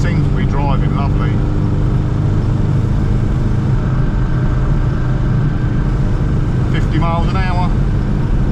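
Classic Mini on the road after a budget restoration, with a loud, constant engine and road drone from inside the car throughout, and a few brief higher chirping sounds over it near the start and end.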